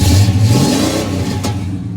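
A 1971 Oldsmobile Cutlass Supreme with a Hurst shifter revs its engine nearby, a loud rumbling rise that then settles into a steady drone, with no voices.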